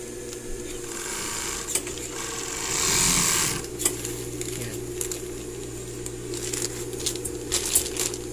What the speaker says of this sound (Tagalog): Medyo mahirap tahiin kasi plastic.